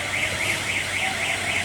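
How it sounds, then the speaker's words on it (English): Alarm buzzer on a paper lid packing machine, triggered at the safety gate during installation setup, sounding a steady, loud, repeating electronic tone that pulses continuously throughout without any talk. "alarm"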